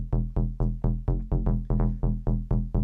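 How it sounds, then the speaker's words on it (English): An electronic bass line pulses in a steady rhythm of about a dozen deep, punchy notes, loud and alone. "that's the original bass line here."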